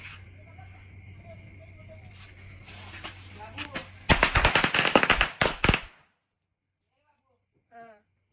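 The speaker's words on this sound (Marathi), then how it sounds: "तिकडे पण फटाके वाजून घेतलेले आहेत" After a quiet stretch of background hum at five in the morning during Diwali, a rapid, loud string of firecrackers bursts for about two seconds, followed by silence and a faint voice.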